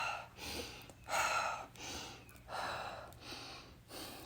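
During a yoga abs workout, breath is pushed out in a series of about five rhythmic, forceful exhales, each a soft breathy burst close to the microphone with brief pauses between.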